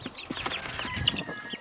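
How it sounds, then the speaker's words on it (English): Little baby birds chirp close by in a yard in Northern Lower Michigan, giving a continuous run of quick, high cheeps against outdoor background noise. "Get some little baby birds next to me."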